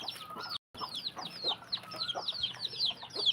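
Backyard hens cluck and chatter continuously at close range, several birds overlapping in quick, uneven bursts with a brief gap of silence.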